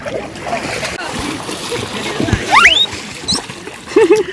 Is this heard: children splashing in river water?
yes